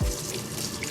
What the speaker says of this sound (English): drain all the water